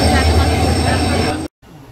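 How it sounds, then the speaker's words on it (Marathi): The Tutari Express pulls into a station with a loud, close, continuous rumble and steady hum, then cuts out abruptly and falls to quieter ambience. "तुम्ही इथे पाहू शकता की आमची ट्रेन आता आलेली आहे."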